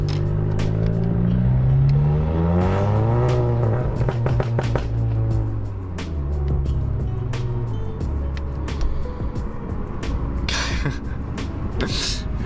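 A Volkswagen MK7 GTI with a muffler-delete kit accelerates hard on an open road, its loud exhaust climbing in pitch through gears and then crackling and popping in sharp bursts, heard close from inside the car.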